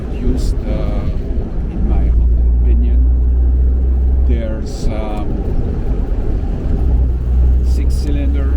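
A 1953 Jaguar XK120 drophead coupe's 6-cylinder 3.4-litre engine drones steadily and loudly while driving, a constant low rumble under someone talking throughout.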